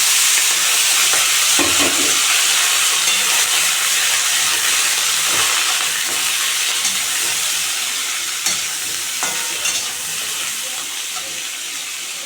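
Torn green chillies and a bay leaf sizzle loudly in hot tempered oil, a dense continuous hiss and crackle with a few stirring knocks, close up and steady throughout.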